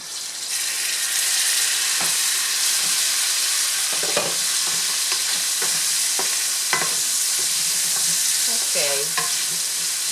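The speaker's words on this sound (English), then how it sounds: "so now our pork is nicely browned" Small pieces of pork pre-seasoned with paprika, black pepper and salt fry and brown in a hot pan, with a loud, steady sizzle and occasional close scrapes and clinks as they are stirred.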